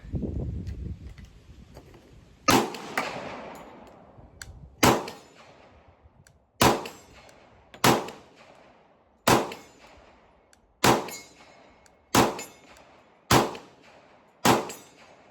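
Kriss Vector 10mm carbine firing nine single shots outdoors, each a loud close crack with a short decaying echo, spaced roughly one to two seconds apart after a quiet lead-in.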